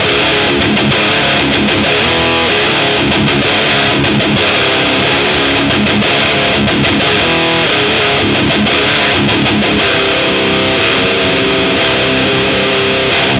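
A loud, distorted electric guitar riff through an amp simulator plugin, with chugging rhythmic strums and brief gaps, thick and saturated throughout.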